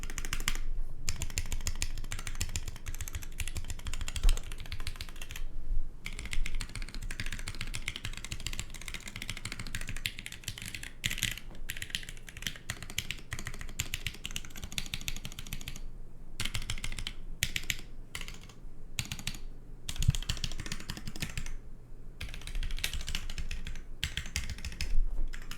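Custom Dark Ex Ecliptica mechanical keyboard being typed on, a continuous close-up clatter of keystrokes with brief pauses and the occasional heavier key thump.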